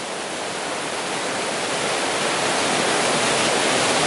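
A fast, swollen river on Dartmoor roars as a dense, steady rush of broadband noise, loud and close, gradually building slightly, with no voices.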